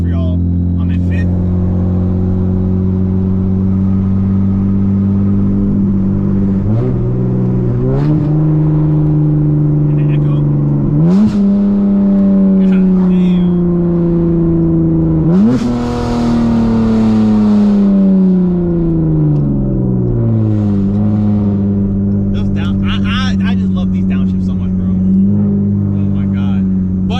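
A tuned V6 Dodge Charger engine revs and downshifts from the cabin, loud and continuous, with pitch climbing through revs and dropping at each downshift, while people talk over it.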